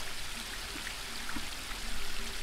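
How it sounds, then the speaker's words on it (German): Steady broadband rushing of a waterfall in the adventure game Book of Unwritten Tales 2, a continuous, fairly quiet wash of falling water with no talk over it. "Der Wasserfall und ich sind schon so lange Nachbarn, dass ich ihn gar nicht mehr höre."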